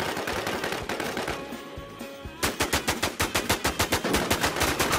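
Rapid gunfire in the online shooter game Warz: a single shot, a brief pause, then a long rhythmic burst of automatic fire, loud and close with no talking.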